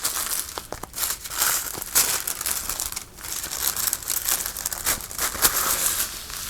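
Sheets of rice paper are folded and handled up close, giving continuous dense crinkling with brief crisp rustles and small tearing-like crackles throughout. No one speaks.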